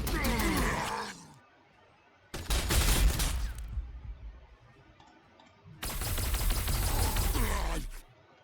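Infantry gunfire in the Warhammer 40,000: Sanctus Reach strategy video game: three loud, dense bursts of rattling shots separated by quieter gaps.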